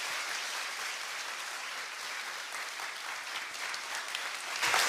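A church congregation applauds during a Sunday worship service, steady dense clapping filling the room for several seconds and swelling slightly at the end.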